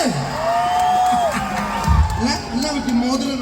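A crowd cheers and whoops loudly, with shouting voices rising and falling and a thump partway through.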